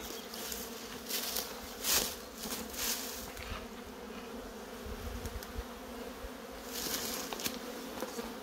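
Bees swarm and buzz inside an opened beehive, a dense, continuous drone heard close up with occasional louder passes as individual bees fly near.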